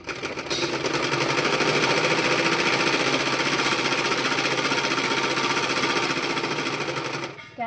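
Sewing machine stitching a blouse runs continuously, a fast, steady mechanical whir and needle chatter close up, then stops near the end.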